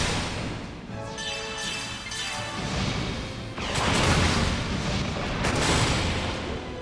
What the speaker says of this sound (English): Ah, the spiral cannon!